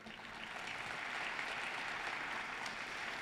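A large crowd at a downtown civic evening event applauds a marquee sponsor. The clapping is a dense, continuous wash heard from a distance, fairly quiet and steady for the whole stretch, with no voices.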